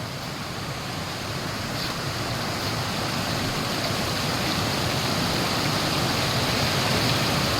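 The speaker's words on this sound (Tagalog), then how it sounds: "oh, lakas ng tubig" Steady, loud rush of flowing stream water, a continuous broadband roar with no pauses and no voices.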